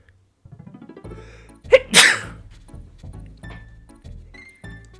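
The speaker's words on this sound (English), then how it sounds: "I sneeze." A single loud, close sneeze with a sharp breathy burst, set against quiet background music.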